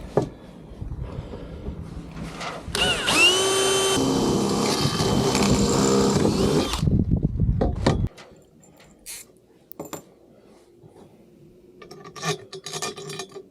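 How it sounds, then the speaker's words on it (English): A drill grinds loudly into metal bars, boring all the way through, for several seconds, its pitch shifting as it bites, then stops, leaving faint clicks and handling noises. "drill a hole all the way through them"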